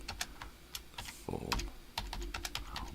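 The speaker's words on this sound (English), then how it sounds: "typing over here" Quick bursts of keystrokes on a computer keyboard tap out irregularly at close range, with a person's voice speaking briefly over the clatter.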